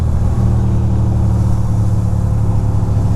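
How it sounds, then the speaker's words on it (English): A motorcycle engine on a cold, wet winter ride rumbles steadily and loudly at close range while downshifting for a sharp turn, its low drone constant throughout with no clear rev spikes and no voices. "Somewhat of a sharp turn, so downshift. Downshift, downshift."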